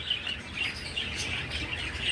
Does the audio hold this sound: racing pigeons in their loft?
yes